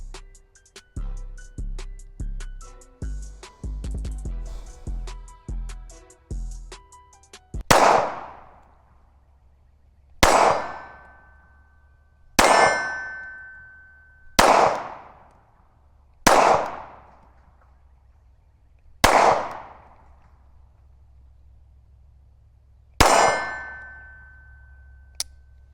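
A Girsan MC 1911 C pistol fires seven loud, sharp shots, spaced irregularly every two to four seconds. Each shot rings out and decays, and a string of clanking and handling noises comes before the first shot.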